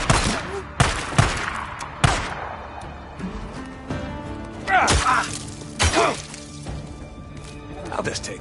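Gunfire in the Days Gone video game: several sharp, loud shots and bursts spread across the scene, some with shattering impacts, under shouted talk.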